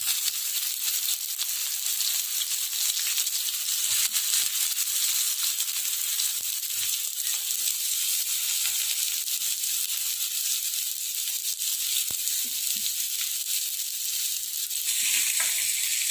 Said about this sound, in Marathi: तेल गरम झालं त्याच्यात कांदा टाकावा.